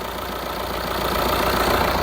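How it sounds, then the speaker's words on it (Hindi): A Tata Altroz XZ Plus manual hatchback, about three years old with roughly 58,000 km, idles with the AC switched on, giving a steady, even engine hum that rises slightly in level and continues alone without talk. "ये इंजन का साउंड है इसका अभी"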